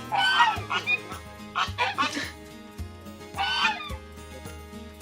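Several loud, harsh honks from a gander come in bursts, close by at a zoo, with quieter gaps between them.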